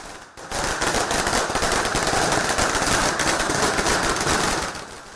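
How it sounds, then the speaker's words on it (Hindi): Rapid crackling firework barrage at a BJP office victory celebration in Raipur, a loud continuous string of pops that starts abruptly after a brief quiet and fades slightly at the end. "सुबह 11 बजते रायपुर में बीजेपी के दफ्तर में आतिशबाजी शुरू हुई"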